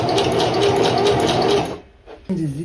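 Sewing machine running a steady zigzag stitch on a wig cap, a loud close mechanical whir that stops briefly before a voice speaks.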